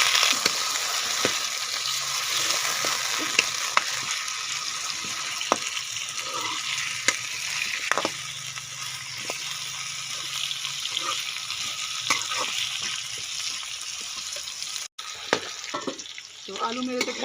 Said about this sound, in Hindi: अब मैं इसमें आलू डालूंगी।